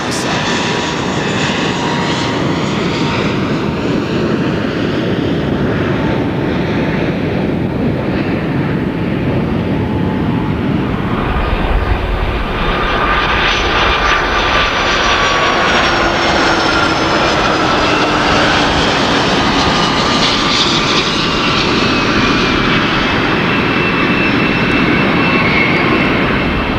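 A Boeing 737-200 jet airliner's engines roar at takeoff, a loud, sustained, rushing drone with a shifting whine that holds steady throughout.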